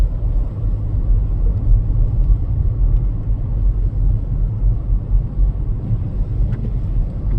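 A car drives through a whiteout blizzard in St. Paul, Minnesota, with a steady, heavy low road and engine rumble throughout and no voices.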